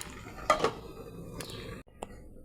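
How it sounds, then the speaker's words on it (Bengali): A metal lid clinks onto a cooking pot of shrimp with Malabar spinach and pumpkin curry, two short clatters close by, followed by a faint tap. "এবার আবার ঢাকনা দিয়ে দেবো।"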